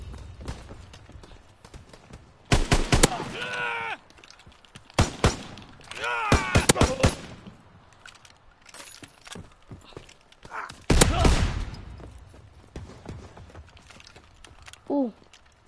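Gunfire in the video game Fortnite: several sharp, loud shots land at scattered moments, separated by quieter stretches, while a player talks and shouts over the game.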